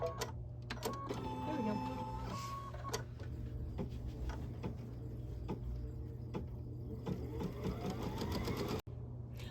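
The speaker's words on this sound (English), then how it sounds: "we're going to stitch that placement line" An embroidery sewing machine stitches a placement line with natural linen-colored thread, giving a steady mechanical whir with rapid ticking needle strokes and brief tonal motor shifts. A person speaks briefly over it near the end.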